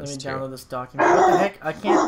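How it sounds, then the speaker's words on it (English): Dogs barking and yipping in a room, close and loud, running under and between people talking during a role-play game podcast recording. "I apologize for the dogs."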